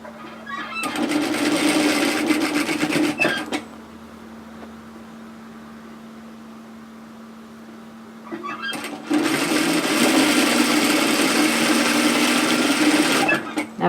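A sewing machine stitches pieces of a woven kimono robe together, with a short back tack. It runs in two loud, steady bursts of whirring and rattling, separated by a few seconds of quieter hum.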